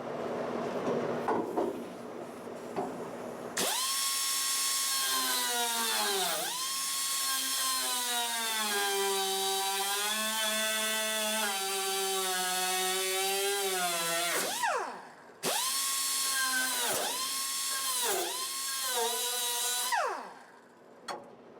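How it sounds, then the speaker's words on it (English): A grinder works down a weld on a Classic Mini floor crossbeam, its loud, high whine dipping in pitch as it bites into the metal, stopping briefly, then running again before winding down. "going to have to grind down this weld and remove it"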